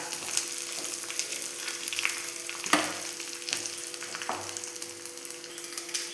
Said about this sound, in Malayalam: നമുക്കതിലേക്കൊരു 2-3 പച്ചമുളക് ഇട്ട് മൂപ്പിച്ചെടുക്കാം. ആ കൂടെ തന്നെ 1 തണ്ട് കറിവേപ്പിലയും കൂടെ ചേർത്ത് കൊടുക്കാം.